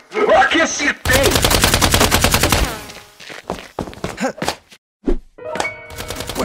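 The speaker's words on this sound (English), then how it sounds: "What are they shooting at up there?" Gunfire in an urban night scene set in Gotham, a rapid machine-gun burst rattling loud and close for about two seconds, followed by scattered single shots and thumps amid brief voices.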